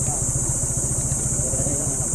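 Motorcycle engine climbing the mountain road up Mt. Oro in Rodriguez, Rizal, a steady low throbbing pulse with rhythmic mechanical beats under constant wind rush.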